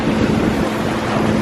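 Waves pounding a sailing boat at sea, a loud, continuous rushing wash of water mixed with heavy wind buffeting close by, with no voices.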